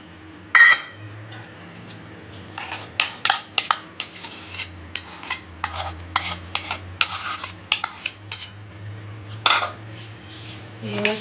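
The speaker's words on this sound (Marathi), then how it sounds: "एक वाटी रवा घेतला आहे आणि अर्धी वाटी दही घेतलेला आहे हे सगळं आता मिक्स करायचं आहे" A spoon scrapes and clinks around a bowl while semolina and yogurt are stirred together for rava idli, a series of short rubbing strokes and taps, close and fairly clear, with occasional faint talk.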